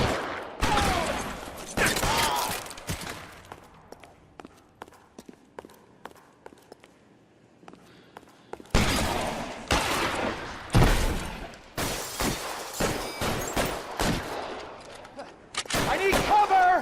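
A video game shootout in L.A. Noire: loud bursts of gunfire in dense volleys, a quieter lull in the middle, then rapid repeated shots resuming, with occasional shouted voices mixed in.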